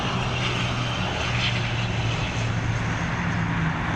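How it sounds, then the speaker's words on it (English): An ATR turboprop airliner arriving at Dublin Airport gives a steady, droning propeller and engine roar that holds at an even level throughout, heard from a distance with no voices. "Another of the ATRs on arrival now"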